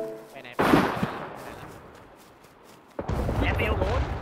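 Gunfire and explosions in the survival video game SCUM: a sharp blast opens into a noisy rumbling tail, then a second burst of shots and crackling follows, loud and near, with a voice talking over it.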